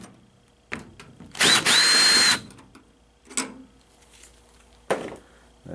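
A power drill backs screws out of a washing machine during a suspension spring repair, one short whirring burst of about a second amid quieter clunks and handling noises.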